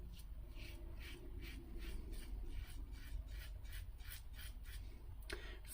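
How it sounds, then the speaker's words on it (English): Parker adjustable injector safety razor shaving stubble, short rhythmic rasping strokes scraping across the skin one after another, quiet and close with no talking. "Yeah, there is shaving going on."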